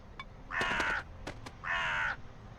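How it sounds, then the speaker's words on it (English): A crow-like bird caws twice in the Elroy and the Aliens video game, each call a harsh, loud burst of about half a second, with clicks in between. "Oh, look! A bird!"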